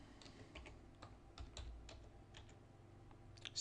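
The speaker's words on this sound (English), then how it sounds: "The first thing we need to do is type quite a lengthy command." Typing on a computer keyboard while entering a long command to configure an Exchange server: a steady run of soft, quick key clicks with a few louder taps, close and without speech.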